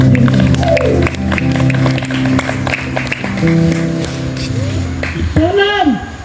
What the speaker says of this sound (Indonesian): Mari kita beri tepuk tangan buat kita pemerintah.